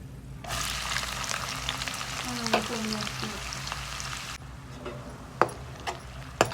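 Onions fry in a pan with a steady, moderately loud sizzle that cuts off abruptly partway through, followed by quieter background and a few sharp clicks or taps; faint speech may be present.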